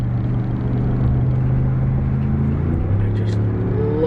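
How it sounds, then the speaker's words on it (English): A 2019 Ram 1500 Longhorn crew cab 4x4 pickup's V8 engine hums with a deep, steady low drone on a test drive, loud and close, with a slight rise in pitch near the end. "I just love the V8."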